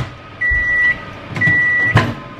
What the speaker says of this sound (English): I'm literally just gonna throw that in the microwave for like 30 seconds.